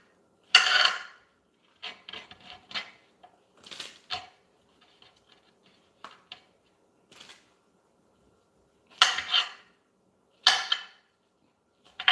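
A kitchen knife cuts up vegetables in a home kitchen, making scattered close sharp chops and scraping strokes in short bursts separated by quiet pauses, with no voices.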